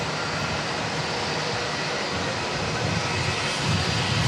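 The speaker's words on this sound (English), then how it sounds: "Don't normally get to see the A380s depart out of Christchurch" An Emirates Airbus A380 jet departs the airport with a loud, constant broad roar of jet engines that rumbles low and swells slightly toward the end, with no voices.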